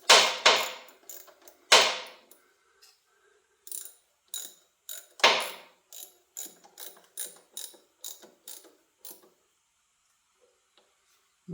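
A ratchet wrench snugs a bolt on a 1936 BB truck, giving sharp clicking bursts in quick strokes, loud and close, trailing into lighter scattered ticks before a quiet pause.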